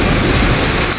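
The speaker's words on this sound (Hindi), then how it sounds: "कितनी स्पीड से बारिश हो रही है।" Heavy stormy rain pours down in a loud, steady, dense roar from start to finish, with no voices.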